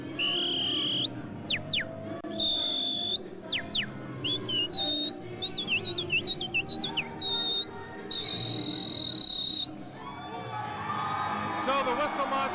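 Shrill whistle blasts from a fan at a New Orleans Saints game, a run of long held tones and quick chirping bursts, loud and close over steady crowd noise.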